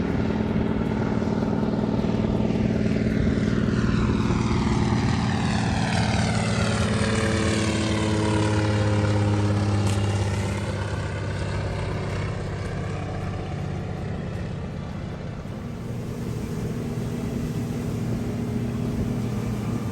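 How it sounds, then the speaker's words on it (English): Floatplane taking off from the water near Sitka, Alaska, its propeller engine roaring loud and steady, the pitch sweeping as it passes, then fading slightly as it climbs away; no talking. "how fast these planes can take off and land in the water"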